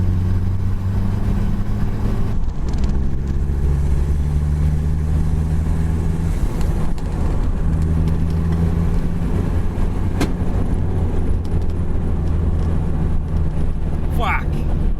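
WLT 2.5 litre diesel turbo engine, tuned with more fuel and boost, running loud and close with a steady low drone and slight shifts in pitch, with no speech.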